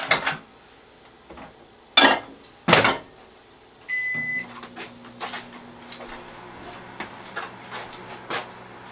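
A microwave oven heats marshmallows and butter for fudge. A few sharp clunks from the door and buttons are followed by a beep and then the steady low hum of the running oven, with light clicks over it and no voices.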